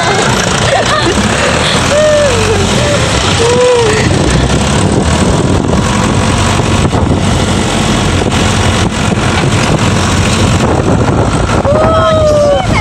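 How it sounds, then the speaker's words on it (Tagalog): Strong wind roars steadily across the microphone with a rumbling vehicle engine underneath, and voices call out faintly through the noise. "Ang sarap ng hangin!"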